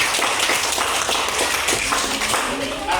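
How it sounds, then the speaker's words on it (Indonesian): A small group claps for a few seconds in a classroom counselling session, steady hand claps filling the space, fairly close and moderately loud, with voices mixed in. "Kasih aplaus."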